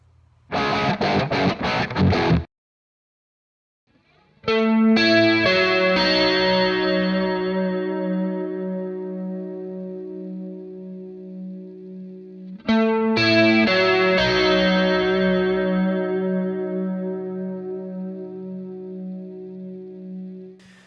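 Electric guitar, a Stratocaster on the neck pickup, with effects: a sharp strummed burst, a pause, then ringing sustained chords that decay, struck again midway and left to ring out.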